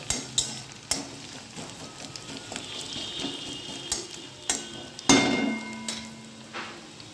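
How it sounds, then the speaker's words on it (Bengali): Garlic fries in a pan with a steady, soft sizzle, broken by sharp clanks and scrapes of a spatula stirring against the metal. "রসুনও দিয়ে দিয়েছি একটু ভাজা ভাজা হবে"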